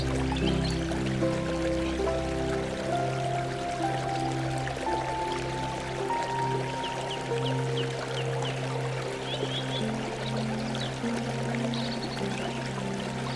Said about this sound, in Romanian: vuietul apei care acoperă orice zgomot în jur, bolborosind în trecerea ei peste pragurile săpate în stâncă